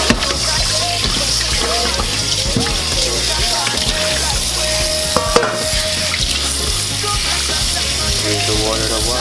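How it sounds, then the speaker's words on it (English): Tap water runs steadily into a kitchen sink while raw chicken is rinsed under it, a continuous splashing wash with faint clatter throughout. "Use the water to wash the chicken."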